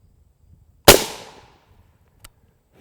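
Single sharp crack of an M855 rifle round fired at a Level III UHMWPE armor plate, heard outdoors at some distance with a quick decaying tail and a faint tick a moment later.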